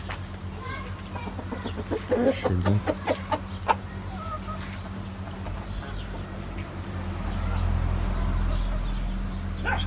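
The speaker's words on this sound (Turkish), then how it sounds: "Şöyle tavuklara da yemleri vereyim artık." Chickens clucking at feeding time at a village house, a few calls in a short burst early on over steady outdoor background noise, with someone speaking briefly.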